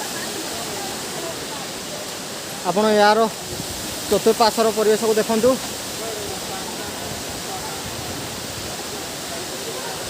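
A steady roar of the Handibhanga waterfall in Keonjhar pours on without a break, broad and hissing, while someone speaks over it in two short stretches midway.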